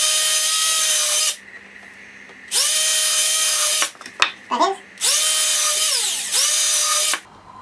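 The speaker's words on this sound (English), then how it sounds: "drilling some pilot holes in this" A power drill bores pilot holes in wood while a simple possum trap is built, sounding in three long, loud, steady whines that each wind down, with a brief clatter of handling between them.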